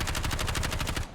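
Rapid automatic gunfire from a Kilo 141 rifle in Call of Duty Warzone, a loud close burst of about a dozen evenly spaced shots fired in quick rhythm before cutting off.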